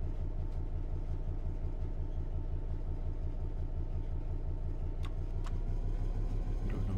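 A Class 66 diesel locomotive in Train Sim World 3 drones with a steady, deep engine rumble, constant and close throughout with no speech.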